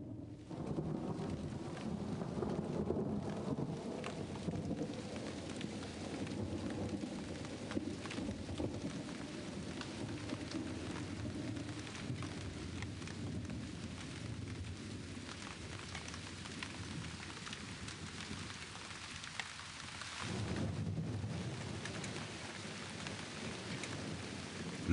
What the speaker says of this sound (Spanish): el horizonte retumba con una promesa de lluvia